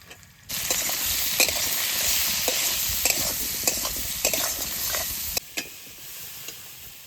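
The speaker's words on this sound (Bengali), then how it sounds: "সবজিগুলো ভালো করে ভেজে নিয়েছি" Vegetables frying in a pan with salt, turmeric and green chillies give a loud, continuous sizzle, broken by the rhythmic scrape and clatter of a spatula stirring, before the heat sound drops away near the end.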